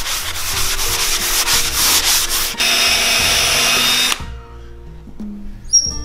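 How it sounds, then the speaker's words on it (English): A wooden boat table is power sanded in loud, steady passes with a brief change of pitch midway, then the sander cuts off, leaving a quieter tail with a faint tool whine. "So let me get sanding."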